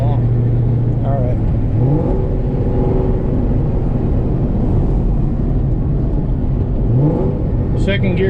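A Ford GT500 accelerating hard through the gears, a loud engine drone under a steady road roar with a rising pitch sweep at each shift and a faint crackle near the end; voices can be heard over it.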